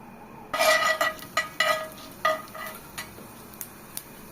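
Urad dal fries in peanut oil in a pan as a spoon stirs it, giving a string of sharp close scrapes and clinks that thin out toward the end over a faint background, with no speech.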